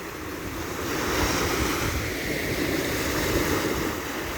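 Ocean waves and surf rolling onto Caspersen Beach as the tide rises toward high tide, a steady broadband wash that swells slightly in the middle, with some wind noise on the microphone and no talking.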